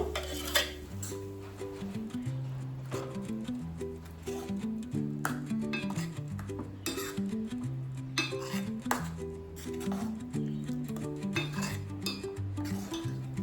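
Spinach stirred into softened onions in a pan for palak paneer, with repeated scraping and clinks of a spoon against the metal pan, soft sizzling underneath and steady music in the background.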